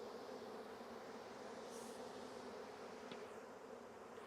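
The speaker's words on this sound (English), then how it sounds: "I'm really trying not to squish too many bees, trying to push them out of the way here." Honey bees from a July swarm buzz in a steady, close hum around someone gently pushing them aside, a continuous drone with a brief louder pass near the end.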